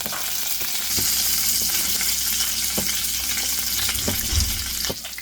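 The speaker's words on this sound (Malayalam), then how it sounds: "ഇപ്പോൾ കടുക് ഒന്ന് പൊട്ടി തുടങ്ങിയിട്ടുണ്ട്" Mustard seeds, urad dal and curry leaves fry in hot oil for an onion thokku, giving a steady close sizzle with scattered sharp pops and crackles and a brief stirring scrape near the end.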